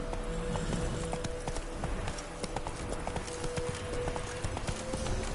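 Galloping horse hooves in a PS4 video game, a steady rapid clip-clop rhythm running continuously and close, with game ambience beneath.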